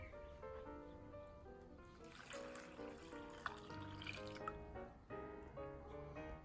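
Quiet trickling and dribbling of water poured into flour for no-knead sourdough, soft and close, with faint clinks and no talking.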